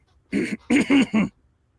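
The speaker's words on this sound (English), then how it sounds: "I'll clear my throat." Someone clears their throat up close with a series of four short, gruff voiced grunts, then silence.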